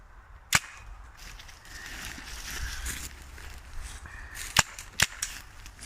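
A CO2 airgun running on a 12 gram CO2 adapter fires a few sharp, snappy shots, spaced out with a short quick pair near the end, heard close over a quiet background hiss.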